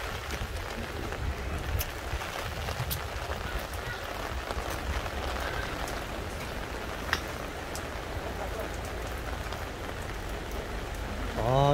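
Steady rain patters on surfaces outdoors on a rainy day at a busy market, a dense, continuous hiss with scattered sharper drips and faint background voices.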